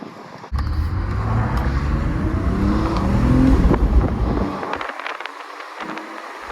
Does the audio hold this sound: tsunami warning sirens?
no